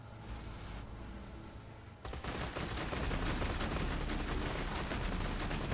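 Dense, continuous gunfire rattles in Borderlands 2 as shots pour at a caravan, with a steady roar that thickens and grows louder after a brief lighter opening, and no voices.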